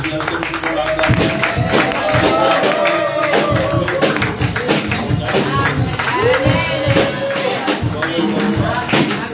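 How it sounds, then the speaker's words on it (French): A church congregation at a Sunday service acclaims a preacher, a loud sustained mix of clapping, shouts and cheering voices with ringing cries rising over the crowd throughout. "Est-ce que nous pouvons l'acclamer?"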